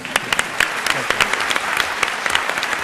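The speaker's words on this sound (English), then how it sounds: "I was going to ask for another round of applause for Robert Rosencrantz" Audience applause at an Intelligence Squared US debate, a full steady round of clapping from a large crowd, loud and sustained with distinct individual claps.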